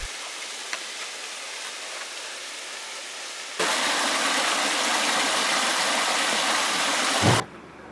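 A secondary waterfall near Medvezhyegorsk in Karelia makes a steady broadband rush of falling water, loud and close, which grows stronger partway through and then cuts off abruptly.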